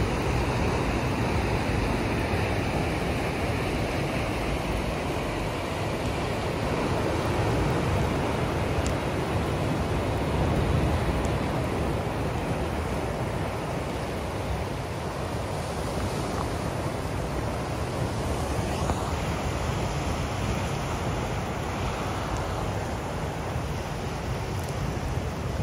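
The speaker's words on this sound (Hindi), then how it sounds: "बारिश हो रही है" Rain falling with sea waves breaking at Stirling Point in Bluff, New Zealand, forming a steady, even broadband roar that holds at the same loudness throughout, with no voices.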